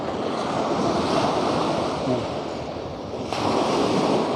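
Strong surf pounding a sandy beach at Hat Sai Kaew in Thailand, a steady loud roar of breaking waves mixed with wind buffeting the microphone, with no voices.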